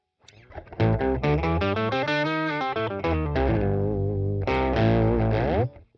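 An electric guitar runs through a heavy octave effect on a Boss Katana Gen 3 amp, playing a sustained, distorted melodic line with thick doubled lower tones. The phrases are loud and continuous and end with a held note.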